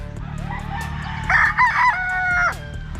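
A fighting rooster crows loudly and close by on a farm, one long drawn-out call rising over a low background rumble, with fainter clucking around it.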